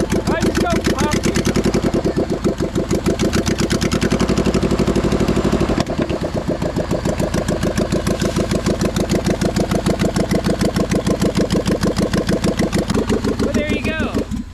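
A loud, close, poorly maintained Magnum engine runs with a fast, steady chugging rhythm, its pitch briefly rising and settling near the end; voices are faintly audible underneath.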